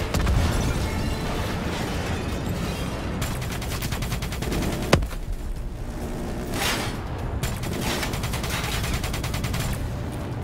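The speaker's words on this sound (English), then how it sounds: "Grab cover! Incoming missiles!" Incoming missile strikes and heavy gunfire in Call of Duty: Black Ops III, with sustained loud fusillades and rattling automatic bursts, booming explosions, and one sharp blast standing out midway.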